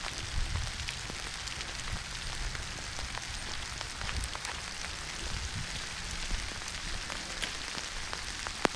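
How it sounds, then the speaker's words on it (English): Steady rainfall pattering on surfaces, a continuous soft hiss with scattered drops, no voices. "It's raining."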